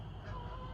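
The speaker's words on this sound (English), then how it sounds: "those are some loud geese" Geese honk loudly as they fly overhead outdoors, a brief burst of nasal calls against a steady hum of background noise.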